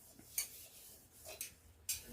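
Dishes and a milk pot being washed by hand give off a few faint, scattered clinks and knocks of vessels against each other, quiet and with no talking.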